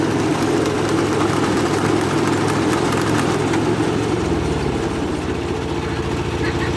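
A Kubota engine on a threshing machine runs with a loud, continuous, rumbling drone. Its tone shifts slightly lower partway through.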